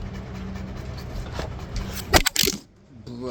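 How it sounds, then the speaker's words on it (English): A phone drops with a short cluster of sharp clattering impacts against a hard surface, close to the microphone, right after steady background noise and just before a sudden quiet. "dropped the phone."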